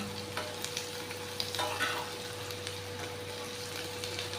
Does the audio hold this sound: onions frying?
yes